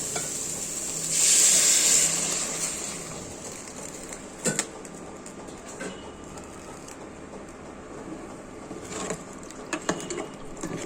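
Puti fish curry with potato, tomato, cinnamon, ginger and garlic bubbles in a pan after water is added, opening with a loud hiss for a second or two, then settling to a low simmer with a few scattered clinks of stirring.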